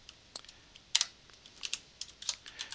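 Someone types C++ code on a computer keyboard, a quick uneven run of close, crisp key clicks with a few louder taps and no talking.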